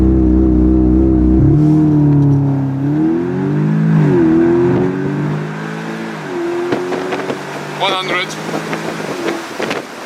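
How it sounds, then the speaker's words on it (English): An Audi car engine idles low, then revs hard on a launch from full brake and preloaded throttle, climbing through the gears in a strong surge of acceleration, with wind buffeting the microphone. "Brake full and preload the throttle."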